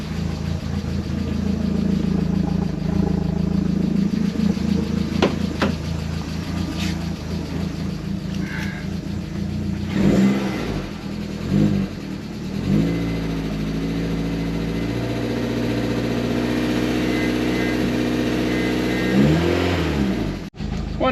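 A Vauxhall VXR engine idles with a rough, lumpy rhythm, then revs up and drops back several times, loud and close, with a brief murmur of talk.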